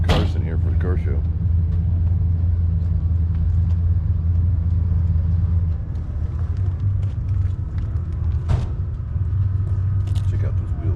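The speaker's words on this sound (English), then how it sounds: "starting to get some more cars in here for the car show." Cars roll in to a car show in Tucson, Arizona, a low engine rumble idling and moving close by for the whole stretch, with a few faint knocks and clatters on top.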